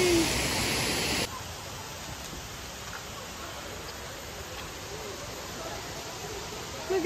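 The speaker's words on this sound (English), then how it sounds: "Ooh, it's a very big waterfall." Broadband rushing roar of a very big waterfall, steady and continuous throughout, with a brief louder burst at the start.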